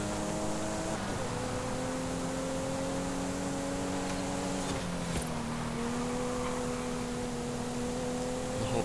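Toyota Supra engine in Forza Horizon 5, a steady, loud engine drone held at high revs with a couple of brief pitch dips as gears shift. The noise is constant and even throughout.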